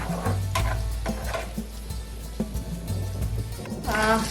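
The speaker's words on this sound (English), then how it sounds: "now I'll just put this on high flame and stir it for a minute" Pineapple salsa sauce for tawa fish being stirred in a pan over a high flame: a steady close sizzle broken by repeated scraping strokes of the spoon, with faint music running underneath.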